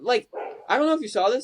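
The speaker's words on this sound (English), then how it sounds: "I don't know if you can hear my dog barking in the back." A dog barks in the background during a sports podcast, with brief yips and woofs blending with a man's speech.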